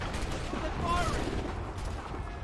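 Musket gunfire in a colonial-era battle in Assassin's Creed 3, dense overlapping shots rumbling through a noisy battlefield mix, with shouted voices nearby.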